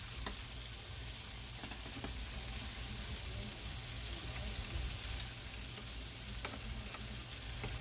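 Steady crackling sizzle of meat frying in a pan, a continuous bed of hiss with occasional sharper pops, close and moderately loud, no voices.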